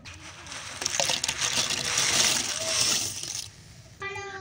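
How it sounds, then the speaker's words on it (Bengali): Dry pasta tipped into a pot of hot water, a close rattling splash and patter lasting a few seconds, followed by a quieter pause and some faint clinking at the end. "এখন এই গরম জলের মধ্যে পাস্তাটাকে আমি দিয়ে দেব।"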